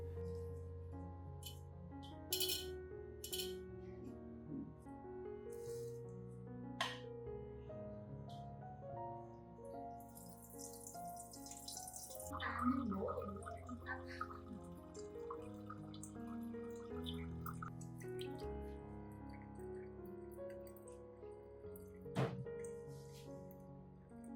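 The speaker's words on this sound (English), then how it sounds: "I'll filter out any undissolved charcoal residue to make the solution clearer" Charcoal solution filtered into a container for watering plants, with scattered drips and trickles falling over a low steady background, close and quiet, no voices.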